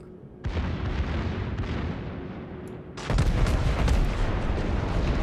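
Iowa battleship main guns firing in World of Warships: a deep boom opens, then a second massive salvo hits, followed by sustained roaring, crackling rumble close and loud.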